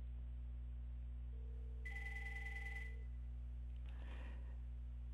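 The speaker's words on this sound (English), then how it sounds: "and now it'll go ahead and dial." A Bria4 soft phone places a call, giving a brief steady electronic tone followed by a burst of ringing, all over a constant low hum with no talk.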